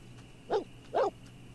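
A dog barking in the life-simulation game The Sims 4 while out jogging with its owner, two short separate barks over a quiet background.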